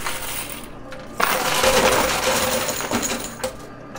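Coins and chips clatter and drop inside a high-limit casino coin pusher machine, a dense continuous metallic jangle that swells loudly in the middle and tapers off, with no talking.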